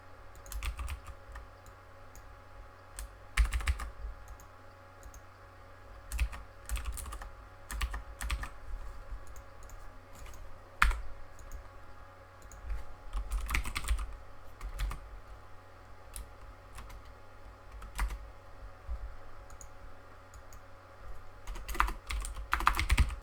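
Steady typing on a computer keyboard, irregular clusters of soft close clicks with occasional louder key strikes and brief pauses, no voices.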